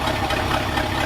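A 1966 car engine idles with exhaust leaks near the manifold, a loud, close, steady rough rumble with a fast ticking pulse, heard alone for about a second.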